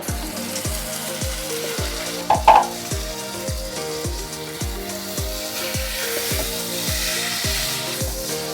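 Chopped tomatoes drop into frying masala and sizzle steadily, with a rhythmic series of regular stirring knocks against the pan throughout and a brief louder splash near the start, close and without talk.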